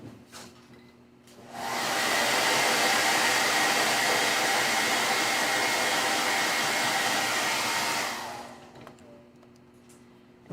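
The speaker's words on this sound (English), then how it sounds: "I think we'll hit the blow dryer so we can move into the shading part." A blow dryer drying paint on a stenciled wood phone stand runs steady and loud for about six seconds, switching on and off with a brief quiet at each end.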